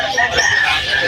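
Roosters and hens at a bird market cluck and call close by, short fowl sounds mixed with nearby voices talking.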